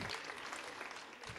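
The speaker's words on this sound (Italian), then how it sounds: "Mi fate un applauso spontaneo" Students applauding at a school assembly, a short, faint burst of dense clapping heard at a distance.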